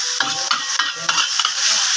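Cabbage sizzles and rustles as it is stir-fried in a hot wok for meatball fried rice, with a steady frying hiss and a few scraping clanks from the spatula.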